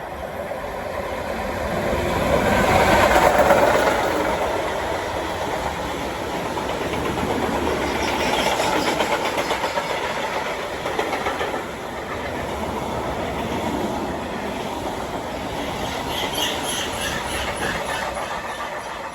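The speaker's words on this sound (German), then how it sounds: "Und da hätten wir schon den ersten Güterzug Richtung Norden." A DB Cargo freight train passes northbound on the Riedbahn line with a steady, close rumble and rhythmic wheel clatter. It sustains for about nineteen seconds with no talk.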